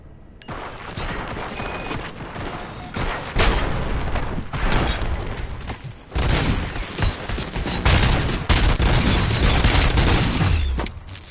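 Heavy gunfire and booming blasts in RoboCop: Rogue City, a dense, loud fusillade of shots and explosions filling the scene with almost no pause.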